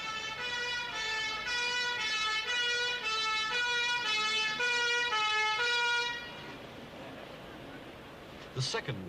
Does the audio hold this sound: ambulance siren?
yes